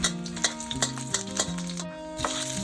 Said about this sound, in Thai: ตั้งกระทะให้ร้อนแล้วก็ใส่น้ำมันตามด้วยกระเทียมค่ะผัดให้หอมๆค่ะ